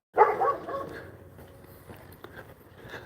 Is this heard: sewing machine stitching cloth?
no